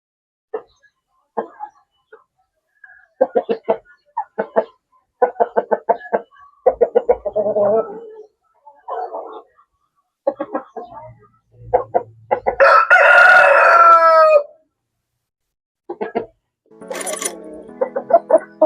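Japanese Tanaka chickens cluck in short repeated bursts, with a loud rooster crow rising near the middle and another brief crow near the end, close by on a farm with no talking.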